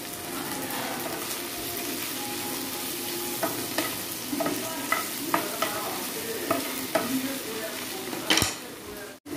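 Onion and chopped tomato sautéing on low heat in a pan, a steady close sizzle with intermittent stirring scrapes and utensil taps, no voices.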